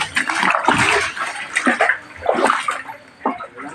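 Rainwater floods into a house, heard as repeated close splashing and sloshing surges in irregular bursts, loud and uneven.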